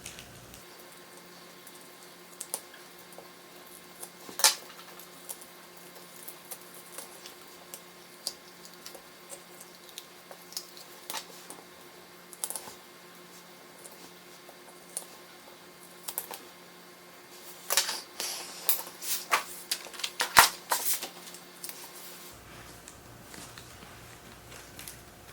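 Excess iron-on craft vinyl peeled away from its backing during weeding, giving soft scattered crackles and ticks that grow into a denser burst of small crackling peels near the end.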